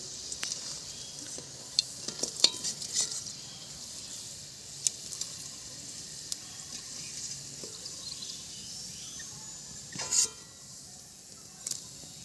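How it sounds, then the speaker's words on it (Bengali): Bhetki fish fingers fry in hot oil with a faint steady sizzle and occasional soft clinks and scrapes of a slotted spoon. The sound stays quiet and close. "দেখো ফিঙ্গারগুলো কি সুন্দর লাল লাল হয়ে ভাজা হয়ে গেছে।"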